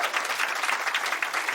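Brief, steady applause rises from the audience at a stand-up comedy club. The clapping is continuous and even through the whole short moment, with no voices on top.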